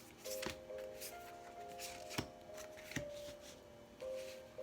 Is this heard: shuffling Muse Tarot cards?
yes